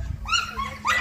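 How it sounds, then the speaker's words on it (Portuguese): Dogs at a bull-breed kennel let out a couple of short yips and whimpering barks, close and moderately loud, over low background rumble. "Os cachorros todos soltos, macho com macho."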